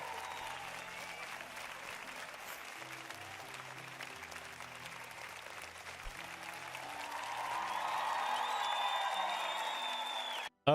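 An online audience gives a round of applause for a D&D homebrew submission, a faint, steady patter of clapping that swells slightly toward the end before a brief cutoff.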